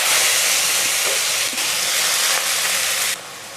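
Chopped onions frying in hot oil in a pan for mutton curry over a gas flame: a loud, steady, close sizzling hiss that keeps going and then drops in level near the end.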